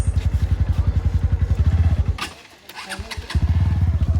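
A Bajaj Pulsar NS160 BS7 motorcycle engine thuds in a fast, steady rhythm close up, then revs sharply and sputters for a moment before settling back to the same loud pulsing beat.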